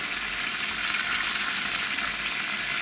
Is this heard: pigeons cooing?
no